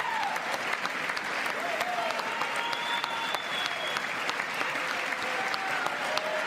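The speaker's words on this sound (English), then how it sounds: "Is John Fetterman cheering?" Audience at the State of the Union address applauding in a long, steady burst of clapping with scattered cheers and whoops over roughly six seconds, filling the hall without a break.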